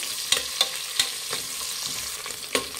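Sliced onions frying in oil in a pan for Kashmiri veg biryani: a close, steady sizzle runs throughout, broken by a few sharp clicks of stirring.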